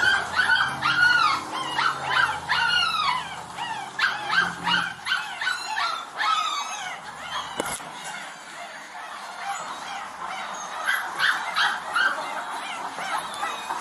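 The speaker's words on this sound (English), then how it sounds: "There's little puppies right here." Dogs and puppies rescued from a locked U-Haul bark, yip and whimper in rapid overlapping bursts for several seconds, then settle into quieter intermittent whines with a single sharp knock partway through.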